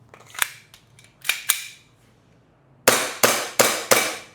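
An airsoft gun fires single shots in semi-auto mode, a series of sharp, close cracks, softer and irregular at first, then four loud evenly spaced shots.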